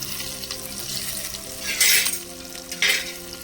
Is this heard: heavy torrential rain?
no